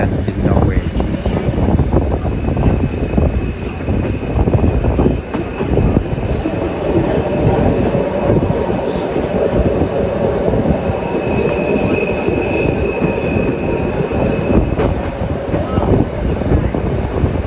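Flåm Railway train running on the tracks in Norway, a loud continuous rumble of wheels with squeals and rattles, and a voice talking over it.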